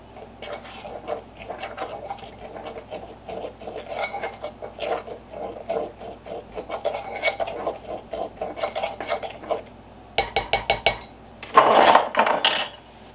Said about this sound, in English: We'll stir these together.